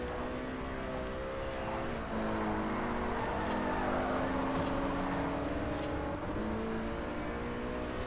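Ferrari California engine humming as it drives in Forza Horizon, a steady close motor tone with shifting pitch, the note dipping and rising between gear changes, no talking.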